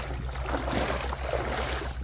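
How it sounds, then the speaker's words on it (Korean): Flowing stream water heard while wading outdoors in knee-high rubber boots, a steady broadband rush with low rhythmic sloshing underneath, continuous and close. "물소리가 시원하게 들리죠."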